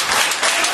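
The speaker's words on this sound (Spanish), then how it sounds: "Un fuerte aplauso al Señor." A church congregation applauds, a dense burst of many hands clapping close and loud for under a second.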